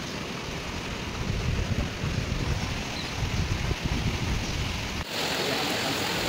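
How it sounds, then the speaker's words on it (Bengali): Heavy rain pours down over flooded Mumbai, a dense, constant hiss and roar with a low rumble beneath it that holds steady with no voices. "আর বৃষ্টি হচ্ছে মানে তো চারিদিকেই ভরে গেছে"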